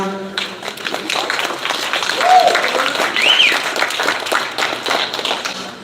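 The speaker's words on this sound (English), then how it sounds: "round of applause for Sergio" Applause from a crowd for Sergio, a matchmaker, at the APFC 21 fight weigh-ins, a steady wash of clapping lasting several seconds with some cheering or whistles on top.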